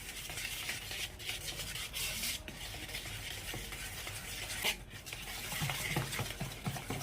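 Lava cake batter with curd and a splash of vinegar or lemon juice is stirred together in a bowl, giving a steady, close scraping and swishing that runs throughout with no talk.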